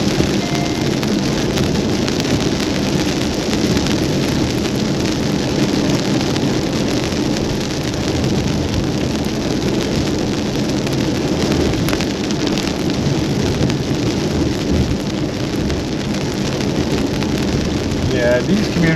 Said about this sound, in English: raining pretty heavily,